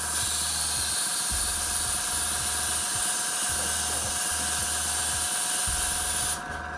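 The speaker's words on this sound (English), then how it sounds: "Airbrush positioned so that it is somewhat high above the visual." An airbrush sprays basecoat paint onto a Hydra miniature with a steady, loud, airy hiss under a low rhythmic compressor pulse. The hiss cuts off abruptly near the end.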